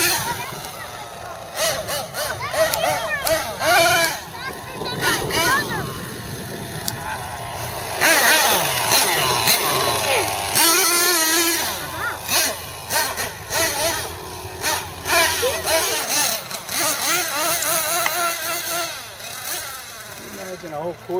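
A Team Associated MGT 8.0 RC monster truck engine runs loud and buzzing with rising and falling revs, and voices talk under it.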